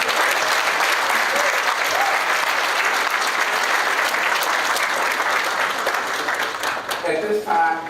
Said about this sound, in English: How about a round of applause for our booster club and put this group together?